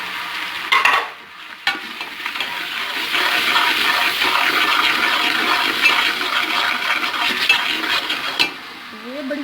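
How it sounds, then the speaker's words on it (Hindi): Masala for daal fries in a pan with salt, chili and turmeric added, a steady close sizzle with scraping stirs and a few clinks, while a voice briefly speaks near the end. "इसको हल्का सा भून लेंगे। साथ ही इसमें हम नमक मिर्च हल्दी डाल देंगे।"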